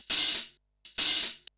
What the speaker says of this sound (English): So this is the open hat I found.